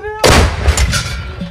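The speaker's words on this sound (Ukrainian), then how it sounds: "Остріл!" A loud, sudden boom of artillery fire erupts nearby on a front line in the Russia-Ukraine war, followed by a rumbling roar that lingers and fades.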